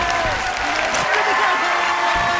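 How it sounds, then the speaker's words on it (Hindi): An audience applauds after a folk art group is named winner at a fair's talent competition. The dense, sustained crowd clapping is fairly loud and close, with voices mixed into it. "जोरदार तालियां, आपकी तालियां बजती रहे"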